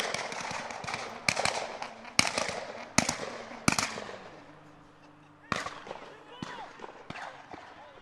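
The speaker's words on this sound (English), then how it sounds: "we are getting bombarded by, I believe, backfires from cars that sounds like gunshots" Car backfires near a soccer match, a series of sharp gunshot-like bangs at irregular intervals, some loud and close, with a commentator talking between them.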